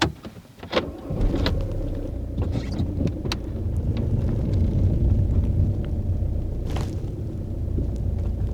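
A car drives through the snowy village of Beli Iskar in winter, its engine a steady low rumble with road and tyre noise throughout, plus a few brief clicks and knocks from inside the cabin.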